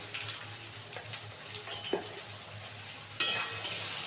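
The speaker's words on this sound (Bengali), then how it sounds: "এটা খুব সুন্দর করে ভাজবো" Potatoes and onions fry in a pan with turmeric, a soft sizzle under occasional stirring scrapes and a louder clatter of a utensil near the end.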